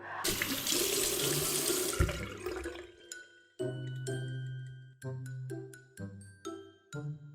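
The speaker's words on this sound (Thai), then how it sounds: "ล้างมือของเรา ล้างมือให้สะอาดล้างนะคะ เพื่อป้องกันเชื้อโรค" Running tap water splashes into a sink as hands are washed, a loud steady gush for the first few seconds, then shorter bursts of flowing water with pauses between, close by and with no talking.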